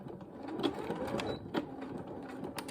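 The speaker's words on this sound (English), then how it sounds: "And we're just going to stitch all the way to the end, taking the pins out as we go." A domestic sewing machine stitches a back-stitched seam along a pair of trousers, its steady motor whirr running close and moderately loud, with a few brief clicks and taps over the continuous hum.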